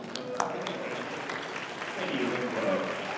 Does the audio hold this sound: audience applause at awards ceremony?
yes